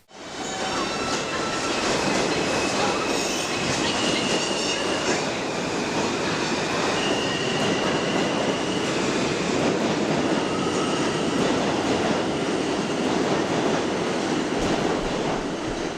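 A subway train rides through a tunnel with a constant loud roar, rattling wheels and faint high squeals, sustained and close throughout with no talking.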